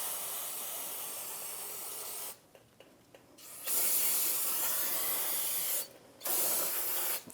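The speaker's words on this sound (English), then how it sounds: "now I can take some parts cleaner and clean it up" Aerosol parts cleaner sprayed onto brake parts of a 2010–2023 Toyota 4Runner, three sustained loud hissing blasts separated by short pauses with faint clicks.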